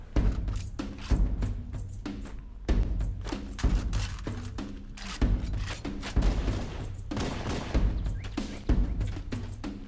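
Gunfire in Halo: Combat Evolved comes as rapid, rhythmic bursts of punchy thuds and shots, repeating in loud clusters throughout with no voices.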